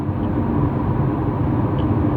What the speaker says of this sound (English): Because he's dragging something underneath of his car.